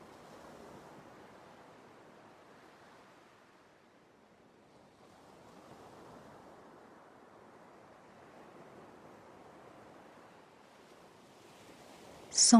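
Ocean waves washing softly onto a beach at dawn, a faint, distant surge that slowly swells and fades for several seconds, with no voices.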